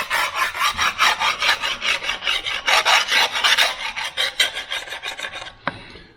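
A hand file rasps a burr off the bar of a Stihl 025 chainsaw in quick, even back-and-forth strokes, close and loud, about a dozen passes ending with a brief clink.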